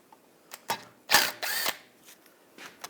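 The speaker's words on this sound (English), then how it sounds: "Using a T30 socket," A socket on a ratchet turns out a screw near the caliper hanger during rear wheel bearing and hub work on a 2009-2017 Volkswagen Tiguan, heard as a few short mechanical ratcheting clicks and whirs in a quiet garage.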